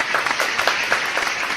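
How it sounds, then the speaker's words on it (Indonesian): Studio audience applause during an Indonesian talk show on domestic violence, a steady dense patter of many hands clapping at moderate volume throughout, with no talking over it. "Oke, tepuk tangan dulu."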